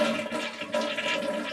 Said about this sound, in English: Give the toilet a flush.